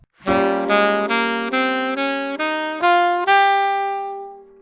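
An E Locrian scale ascends note by note on a bright, sustained instrument, eight steps in a steady rhythm with the final note ringing out.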